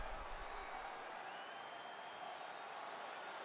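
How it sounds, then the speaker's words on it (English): Crowd applause and cheering in a UFC 4 mixed martial arts video game arena after a round, a steady, dense wash of clapping and crowd noise throughout, moderately faint with a brief low thump at the start. "So the crowd voicing its appreciation after that round."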